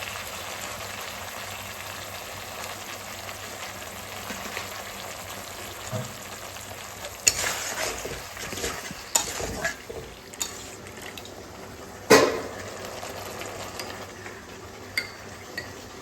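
Food frying in a pan with soy sauce and green chili sauce is stirred, producing a low continuous sizzle with scattered scraping and clinking of a utensil against the pan.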